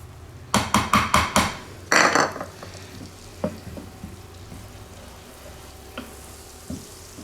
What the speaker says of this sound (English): You add 1 stick of real butter and then a half a cup of flour.